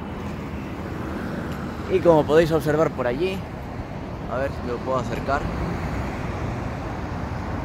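A steady roar of car traffic fills a main avenue in Japan, running as a constant backdrop while someone talks over it.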